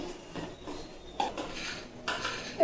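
Utensils clink and tap against a pot while tea leaves are added to brewing tea, in a series of light, close metallic knocks with no talking.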